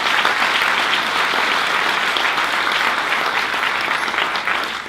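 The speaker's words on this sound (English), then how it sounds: "So give all of yourselves a round of applause." Sustained, dense applause from an audience at an awards lunch, loud and close, steady clapping filling the whole stretch before tapering slightly at the end.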